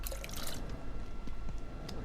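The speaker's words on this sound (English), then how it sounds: "Okay, so I can fill my water bottle from here." Water trickling steadily into a bottle in the game Abiotic Factor, a soft continuous drip-and-fill stream at moderate level for about two seconds, with no talk.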